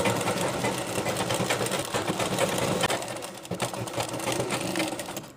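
A sewing machine stitches the lining onto a blouse, running at a fast, steady whir and rattle that stays loud and close for the whole stretch, easing off only briefly near the end.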